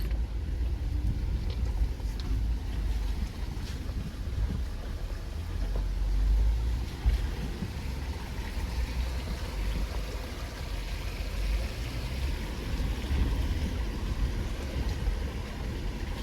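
A Jeep Gladiator crosses a creek on a graded trail, with low rumbling engine noise and splashing, rushing water sounds blended into a steady, close wash with a brief louder surge partway through.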